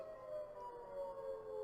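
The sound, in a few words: tornado siren in the background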